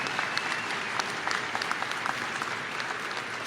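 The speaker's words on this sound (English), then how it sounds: "That deserves a round of applause." Sustained applause from a college commencement crowd, steady dense clapping throughout with no voices rising above it.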